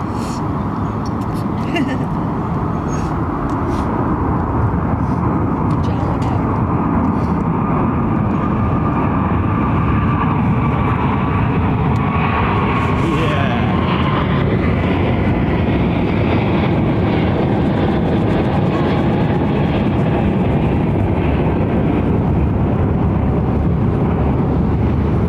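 An airliner departing London Heathrow Airport roars as a broad, sustained engine rumble that holds loud and steady for the whole stretch. Wind buffets the microphone and people talk over it.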